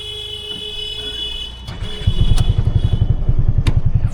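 Piaggio Ape City three-wheeler engine idling, then revving into a loud, fast, rhythmic chugging as it pulls away, close and steady with a few light clicks.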